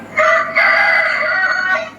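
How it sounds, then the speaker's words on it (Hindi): A rooster crows before dawn, close and loud, in a long drawn-out call with a short break near its start and a fading end. "मुर्गे जो हैं अजान दे रहे हैं।"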